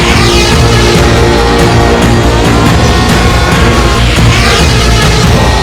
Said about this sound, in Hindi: अब ये तो ड्रोन कैमरा है, लगता है हमारे पीछे कर रहा है